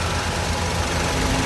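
A 2010 Honda CR-V with a 2.0 i-VTEC engine and automatic gearbox idling close by, a dense, even running drone with no breaks or revs.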